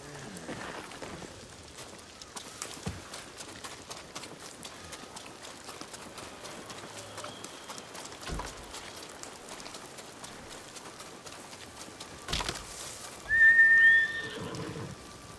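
A horse in the Ghost of Tsushima video game neighs near the end, a loud whinny following a long stretch of soft rain-like ambience with faint scattered hoof clicks.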